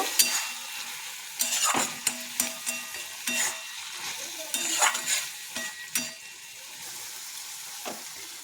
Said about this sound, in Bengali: এরপর আমি সিদ্ধ করে রাখা মুসুরির ডালটা দিয়ে দেব, দিয়ে একটু নাড়াচাড়া করে নেব।